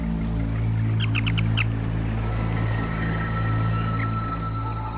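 A few short seabird calls in quick succession on a remote island over steady low wind or surf rumble, followed by faint distant chirps.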